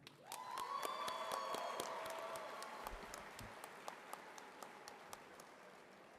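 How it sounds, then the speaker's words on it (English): At the New Heights Charter School of Brockton Class of 2025 graduation ceremony, the audience applauds, faint and distant, alongside a sustained ringing tone and scattered sharp claps that thin out toward the end. "please join me in applauding everyone who has helped us reach this moment"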